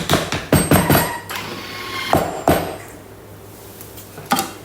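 A Thermomix chops corn for two seconds at speed 8. Sharp clattering knocks of kernels against the bowl and blade come in clustered bursts, followed by a few more isolated loud clunks nearby.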